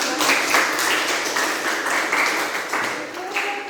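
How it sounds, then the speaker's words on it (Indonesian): Audience applause at the close of a teacher's classroom presentation, a steady wash of clapping from a small group filling the clip, with faint voices mixed in near the end. "Kasih tepuk tangan dulu."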